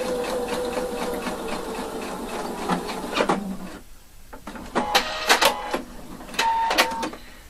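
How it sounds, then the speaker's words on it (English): Sewing machine stitching a trouser fly, a close rapid mechanical whir that runs steadily, pauses briefly, then returns in short bursts. "I sew it up to where the shape or the curve starts, and approximately 1/2 centimeter longer"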